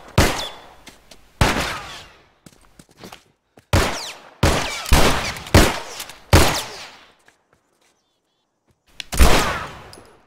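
Gunshots in The Last of Us: about seven loud, close single shots spaced irregularly, each with a sharp crack and a short echoing tail, with silence between them.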